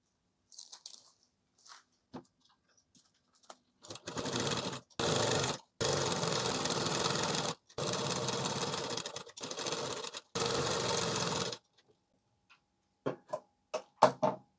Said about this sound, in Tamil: நீங்கள் தையல் போடுங்க சுற்றியும்